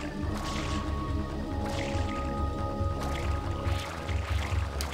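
A boat pushed by a small water stream in Super Mario Sunshine, heard as steady churning, squishy water sloshing with rhythmic low pulses and watery gurgles throughout, fairly loud and alone.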